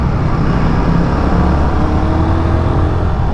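Royal Enfield Guerrilla 450 motorcycle pulling away under throttle, a steady loud engine drone with road and wind noise that holds constant for a few seconds, no voices.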